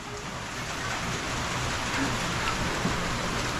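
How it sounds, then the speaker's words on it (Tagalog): Heavy rain pours steadily in a dense, hissing wash, with no one speaking. "Lumakas na naman yung ulan."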